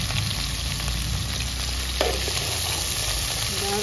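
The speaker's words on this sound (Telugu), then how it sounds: "బాగా తాలింపులో ఫ్రై చేసుకోవాలి." Curry leaves and green chillies frying in hot oil for a sambar tempering, a steady loud sizzle without pause and no voices.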